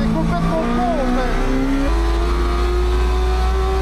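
Renault Twingo fitted with a swapped Suzuki GSX-R 1000 motorcycle engine, heard from inside the car: a steady high idle, then the revs step up sharply partway through and hold a louder, deeper drone.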